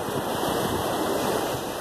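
Black Sea surf washing steadily onto the shore in unsettled August weather, a continuous broad roar of waves mixed with wind buffeting the microphone, with no voices.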